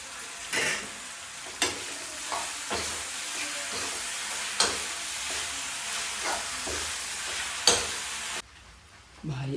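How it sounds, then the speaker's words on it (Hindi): Macaroni frying in a pan with burnt onions: a dense, steady sizzle broken by repeated clacks and scrapes of stirring, close and continuous, before the sizzle suddenly drops away near the end. "फटाफट से मैक्रोनी डालते हैं।"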